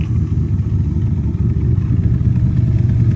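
A deep, rumbling 289 Cobra sports car engine with a glass pack exhaust idles steadily nearby, a low throaty burble with a slight rasp, holding an even tone throughout.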